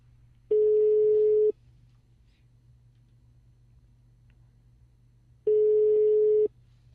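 Telephone busy signal after a caller hangs up during a radio call-in show: two separate steady tone bursts, each about a second long, separated by a gap of faint line hum, loud and clear with no talk.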